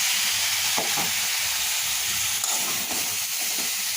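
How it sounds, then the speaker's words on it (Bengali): Shrimp and taro stolons stir-fry in a pan, a loud constant sizzle and hiss broken by a few soft scrapes of the spoon. "এবার আমি কচু লতিগুলো দিয়ে একটু কষিয়ে নেব"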